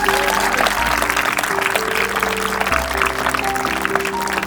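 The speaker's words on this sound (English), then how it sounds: "so that deserves a round of applause as well" An audience at a firefighter training program graduation applauds, a loud, dense wash of clapping that holds for several seconds with a few voices mixed in.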